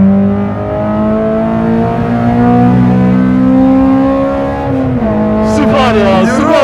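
A Honda Civic Type R revs hard on a race track, its engine note climbing steadily and loudly before a brief drop and a surge at the next gear, with a voice talking over it.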